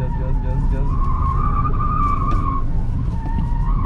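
A car on a bowling-themed driving course screeches its tires in a sustained skid under heavy throttle, the squeal rising and wavering over a loud engine roar, close and continuous for several seconds.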